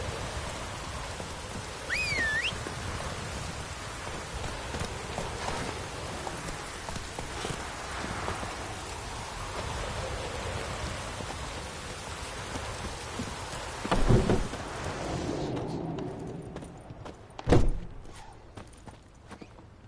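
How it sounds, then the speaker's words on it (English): Steady rain pours across an outdoor scene in The Witcher 3, a constant hiss with pattering drops, broken by a couple of sharp louder knocks near the end before the downpour thins. "Let it rain."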